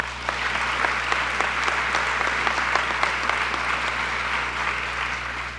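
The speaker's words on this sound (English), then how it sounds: "Let's give them another round of applause." During a police swearing-in and promotions ceremony, an audience gives another round of applause: sharp individual claps stand out over an even patter, with a constant low hum underneath.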